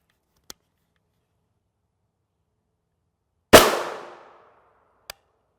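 Gunshot fired at a ShotStop Level IIIA armor plate: one loud sharp report with a short decaying tail, bracketed by two faint distant pops in otherwise near silence.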